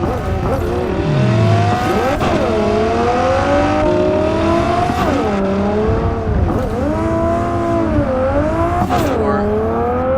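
Race cars in the Cyberpunk VR Night City motorsports game roar continuously, engines revving up and down in sweeping pitch changes as they overtake, loud and close throughout with no pause.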